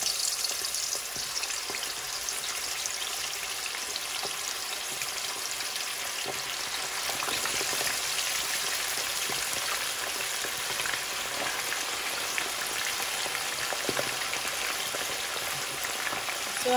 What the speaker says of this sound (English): it's time to fry it up. And I'm just going in skin down and just adding it to the oil